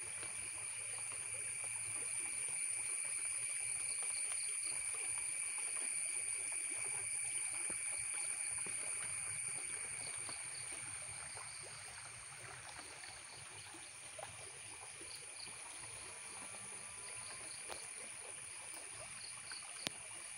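Water from a small stream flows steadily around a compound, making a continuous rushing, trickling wash that carries on unbroken throughout with no one speaking.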